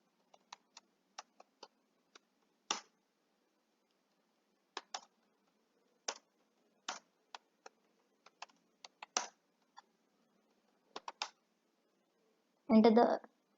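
Sparse clicks of a computer keyboard as a detailed complaint is entered into an online form, quiet and close, irregular single keystrokes and short bursts, ending with a quick flurry of rapid typing.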